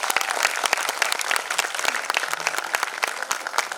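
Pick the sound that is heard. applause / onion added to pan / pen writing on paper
applause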